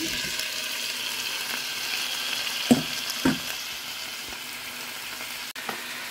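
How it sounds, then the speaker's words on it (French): Fish frying in a pan with oil, made for smoked fish in peanut sauce, gives a steady sizzling hiss with a few stirring clicks and scrapes, close and continuous. "Je rajoute le poisson."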